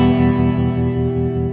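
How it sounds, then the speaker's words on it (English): Chase Bliss pedal with a bounce-modulated knob giving a spooky tremolo: a sustained, dense guitar tone pulsing in a steady rhythmic throb about five times per second, close and loud. "Now we have a spooky tremolo."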